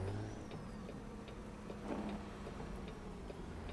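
Turn signal blinker ticking steadily inside a truck cab in American Truck Simulator, a quiet regular tick over low engine hum and road noise.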